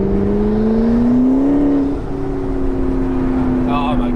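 A McLaren 650S Spider accelerating hard, its engine tone climbing steadily as a loud, smooth drone; a voice talks briefly over it.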